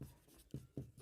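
A pen or marker writing out a math solution, short scratchy strokes in a few quick bursts, close and quiet, with no voice.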